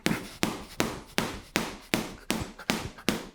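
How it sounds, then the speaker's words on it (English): Body hook punches land on a heavy bag, nine sharp thuds in a steady rhythm, each strike near and loud with a short decay and no talking. "by throwing multiple hooks to the body on the heavy bag"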